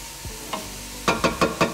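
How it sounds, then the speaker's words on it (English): Onions sautéing in oil and butter for soup, tossed in a pan: a low sizzle broken by a couple of light clinks, then four quick, evenly spaced scraping tosses close by, with no voices. "So I'm tossing them around a little bit to get the oil and the butter all over those onions."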